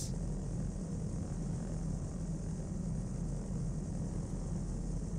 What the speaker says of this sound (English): Bring the aircraft down to land.